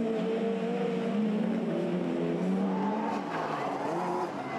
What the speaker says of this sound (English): The 306 kit car going for the Joker lap.